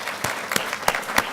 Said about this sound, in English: it's always good when the FBI gets some applause every now and then